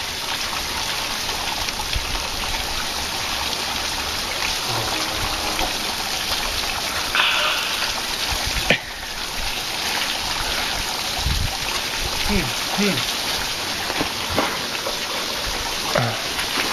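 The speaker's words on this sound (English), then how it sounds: "Check out this spring." Spring water flowing beside a road between Baños and Puyo in Ecuador, a steady close rush and splash of running water that continues throughout, with a few faint knocks and no talking.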